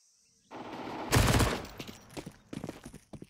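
SMG fire in a Counter-Strike esports match comes as a sharp, loud burst of rapid shots, followed by scattered quieter shots and footsteps in the game.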